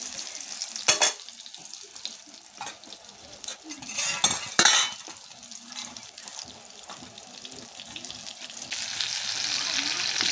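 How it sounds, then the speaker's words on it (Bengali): Eggplant slices fry in oil in a pan, with a sizzle that swells and fades among utensil clatter, scraping and splashy kitchen noises, growing into a fuller, steadier hiss toward the end. "প্রথমে বেগুনগুলো ভেজে নিচ্ছি"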